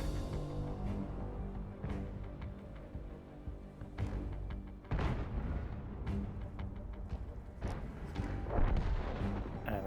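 Tank cannons in World of Tanks boom repeatedly over a dense, rumbling battle backdrop, several heavy low blasts spaced a second or two apart, loud and close, with no voices.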